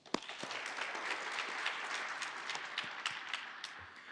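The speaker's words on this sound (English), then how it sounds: "One more round of applause for all the task groups." Audience applause at the Fall 2022 Strive to Thrive Lincoln grant ceremony: a steady, fairly faint wash of many hands clapping together, with a few sharper claps standing out, lasting throughout without any voices.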